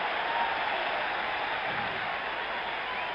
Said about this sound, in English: This Yankee crowd will be roaring all night long with every single out.